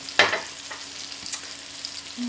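Chicken seasoned with salt and pepper fries in a pan, a soft, steady sizzle broken by a few sharper crackles and pops, close and fairly quiet.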